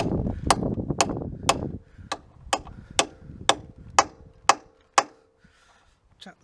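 A tool is tapped home with a hammer on a Honda CB1300 S motorcycle, first a quick cluster of knocks, then eight or nine evenly spaced sharp metallic taps, close and crisp.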